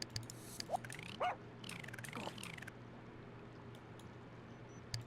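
A dog in the video game The Sims: Unleashed gives a few short barks and yips over a steady low hum, with sweeping synthetic tones in the background.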